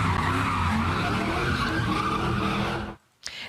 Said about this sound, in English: several cars drifted, did donuts and lit fireworks in the middle of intersections